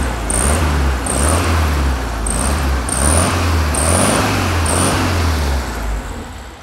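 A 1968 Volkswagen Fusca 1300 runs with a steady low engine drone, close and fairly loud, while a faint high beeping repeats about six times above it.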